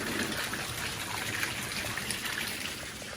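Water gushing steadily from a tap into a birthing tub being filled for labour, a continuous rushing splash heard close and unbroken.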